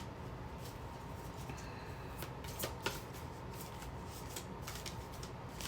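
Tarot cards riffled and flicked by hand in a steady, close shuffle, with a few sharper snaps as cards fling out partway through, no talking.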